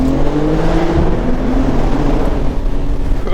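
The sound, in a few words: BMW M3 Competition S58 engine revving, exhaust open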